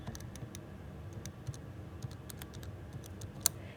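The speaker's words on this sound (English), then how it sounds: "I'm just going to type that into my calculator" Numbers are punched into a calculator as a run of light, quick key clicks, irregular and close, one sharper tap near the end, over a quiet background.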